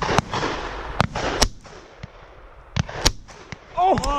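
Shotgun blasts at pheasant on a driven shooting day, several sharp close reports at irregular intervals with fainter distant shots between, and a voice calling out near the end.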